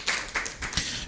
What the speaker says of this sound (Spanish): ¿Alguien quiere darle un aplauso y alabanza a Dios?